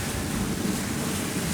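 Water at a water treatment plant rushing steadily, a constant broadband churning roar without breaks, close by and with no voices.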